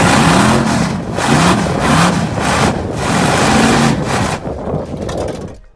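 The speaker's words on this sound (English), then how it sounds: "This is one of the first burnouts I did with my car." A drag car doing an early, unpracticed burnout, its engine roaring and revving loudly and continuously in surging waves for several seconds before easing off near the end.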